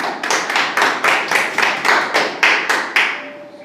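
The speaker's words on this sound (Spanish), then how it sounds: "Vamos a dar un aplauso al Señor." Church congregation clapping in unison, about a dozen sharp, evenly spaced claps in a steady rhythm, close and clear, with the last claps fading out.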